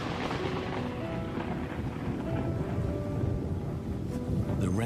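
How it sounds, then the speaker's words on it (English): A heavy rainstorm pours steadily and loudly, with a dense hiss of rain and low rumbling that may be thunder beneath it throughout. "The rainstorm brings healing and relief to the land and the lions."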